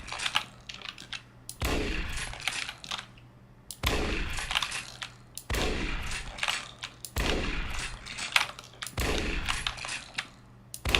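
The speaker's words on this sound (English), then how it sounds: "See if I can shoot his arm off." Gunfire rings out in an Unreal Engine Doom-style shooter, arriving in four loud, sharp bursts of rapid shots with brief quiet gaps between them.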